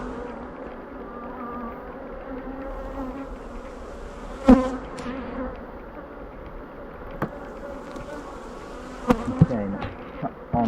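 Honeybees drone in a steady, close buzz during a beehive inspection, with occasional sharp clicks and knocks from handling the hive boxes. No one speaks.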